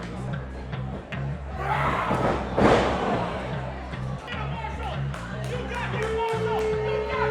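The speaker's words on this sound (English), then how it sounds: "Oh, what a spine buster" A wrestler takes a spinebuster slam in a 1CW pro wrestling match: one heavy, broadband impact thuds mid-ring amid a steady crowd roar and a low hum, with voices talking throughout.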